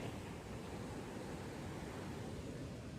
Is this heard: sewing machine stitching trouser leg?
no